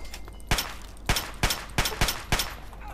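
Gunfire in the modded video game Fallout 3: six sharp shots land in an uneven burst over three seconds, each a crisp crack with a brief tail.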